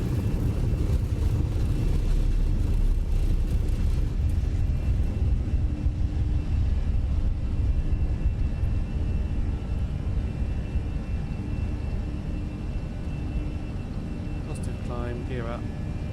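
Fenix A320 airliner in MSFS 2020 rolling down the runway for takeoff: a loud, continuous engine roar and rumble that holds steady throughout, with a faint chirp near the end.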